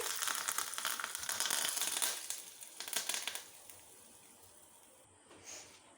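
Hing, mustard seeds and curry leaves hitting hot oil, a loud burst of crackling sizzle that fades after a few seconds into a quieter hiss.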